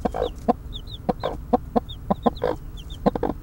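Two mother hens with chicks cluck softly and repeatedly at close range, mixed with thin high cheeps from the babies in a busy, irregular chatter.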